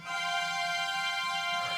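A sampled string ensemble holds a smooth, steady legato note without vibrato, sustained and fairly quiet, with no talking.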